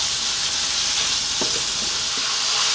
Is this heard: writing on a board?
no